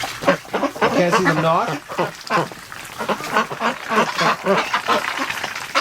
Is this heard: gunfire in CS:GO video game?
no